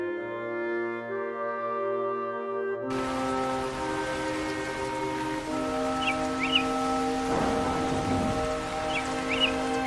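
Cartoon rain falls as a steady, even hiss over a sustained musical backing, with a couple of faint bird chirps near the end.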